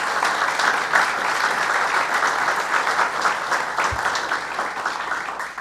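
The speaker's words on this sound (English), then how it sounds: "Let's give them a round of applause." Steady applause from a sizable audience, dense and sustained clapping throughout with no voices standing out.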